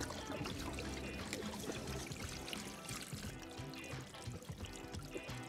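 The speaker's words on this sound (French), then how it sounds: "je vais venir ouvrir mes raccords et laisser l'intégralité de l'eau s'écouler" Water drains out of the opened fittings of a pool heat pump being winterized, making a continuous close trickling and pouring splash with small gurgling bursts and no speech.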